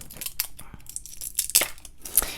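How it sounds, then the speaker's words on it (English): Small scissors snip and tear open a card package holding drink recipe playing cards, giving a few short, crisp cutting and crinkling bursts at close range with no talking. "Let me get a little pair of scissors and see if I can get these to open up here without damaging this card."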